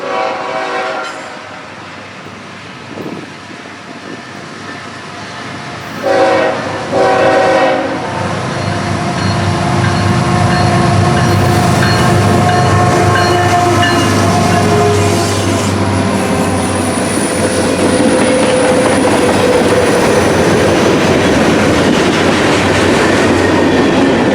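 A southbound CSX freight train on the Hocking Valley line rolls past loud and close, its horn blasting in a couple of sustained calls over a steady rumble of wheels and cars that continues to the end.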